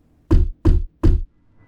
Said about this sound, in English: Then 3 loud knocks came from the ceiling above the living room.